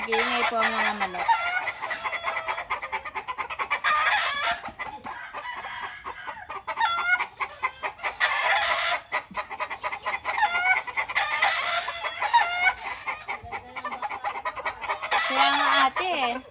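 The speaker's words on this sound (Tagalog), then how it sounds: "nag-iingay po ang mga manok." Chickens cluck and roosters crow repeatedly around a rural Philippine farmyard with a pig pen, several drawn-out crows rising over steady clucking, with a voice talking briefly in the background.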